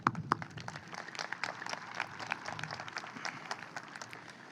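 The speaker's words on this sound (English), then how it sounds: "Round of applause for that." Applause from the audience at a Class of 2019 high school graduation ceremony at Victor J. Andrew, a dense patter of many hands clapping at moderate distance, steady for several seconds with a few sharper individual claps.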